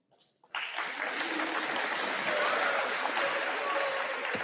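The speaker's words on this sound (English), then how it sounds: "If you could please hold your applause until the last name is called." After a brief quiet moment, an audience at a school promotion ceremony bursts into loud, sustained applause that keeps going steadily to the end.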